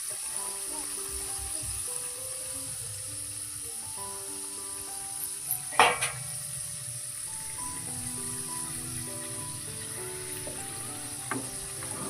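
Pithe, Bengali rice cakes, fry in oil in a village kitchen with a soft, constant bubbling sizzle, a couple of brief utensil clinks, and faint musical tones running in the background.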